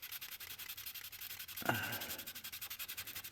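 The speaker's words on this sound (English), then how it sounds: "It's just slightly changing colour as I'm sanding it." A custom number plate frame is hand sanded, with fast, even rasping strokes heard close up, soft and regular, plus a brief sharp knock partway through.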